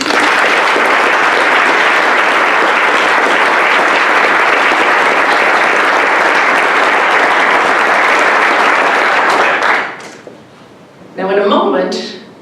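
A sustained round of applause from the audience at a swearing-in ceremony for a new Chief U.S. Probation Officer, loud and dense for about ten seconds before dying away, followed by a speaking voice.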